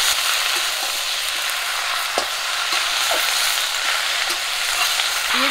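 Malabar spinach and potato with onion and green chili fry in hot oil, a steady close hiss of sizzling with a few soft clinks and scrapes of stirring.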